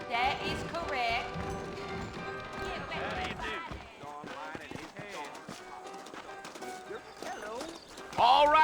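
Horses clip-clopping in the video game Red Dead Redemption, hoofbeats on the ground with occasional whinnies, mixed with game music and dialogue voices.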